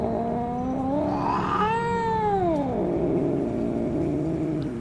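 Orange cat in the DreadOut 2 video game giving a long, wavering caterwaul that rises and then slides down in pitch, loud and close, alone with no talking.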